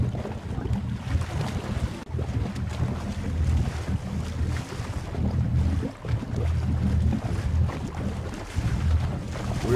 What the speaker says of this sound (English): Looks like there's some storms popping up and a front is passing through.